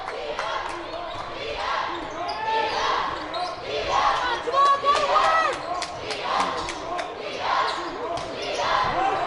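About sixteen cheerleaders chanting and yelling in rhythmic bursts at a high school basketball game, Staley versus Grandview, loud and repeated over the gym crowd with squeaks and bounces around them.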